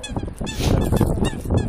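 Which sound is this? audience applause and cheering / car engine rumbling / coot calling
coot calling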